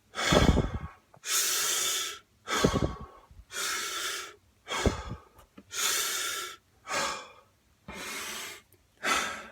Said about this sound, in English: Take 5 deep breaths and then count to 20.